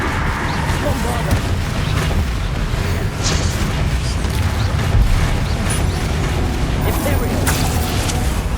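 A Bombarda spell erupts in Hogwarts Legacy amid loud, continuous combat, with heavy booming blasts and rumbling mechanical clatter layered densely throughout.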